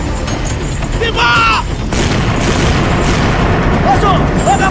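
Cannon fire during a historical battle reenactment at Blang Padang, Banda Aceh, booms loudly amid a noisy outdoor crowd, with voices shouting throughout.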